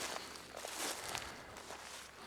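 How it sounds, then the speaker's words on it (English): Faint, steady footsteps crunch and shuffle on the ground around a tent in the pitch-black night, a soft continuous scuffing with no voices. "the footsteps continued to circle my tent"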